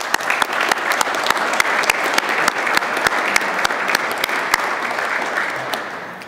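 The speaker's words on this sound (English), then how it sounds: "would you please join me in a round of applause for their hard work and dedication?" Graduation crowd for a peace officer basic academy class gives a round of applause, a steady dense clapping that holds for about six seconds before slightly fading.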